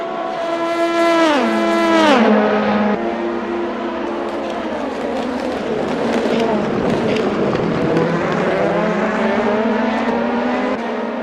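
Race cars lap the Le Mans circuit near the Mulsanne corner in a sim racing game, engines revving loud and close with sharp downshifts and sustained high whine, a commentator talking over them.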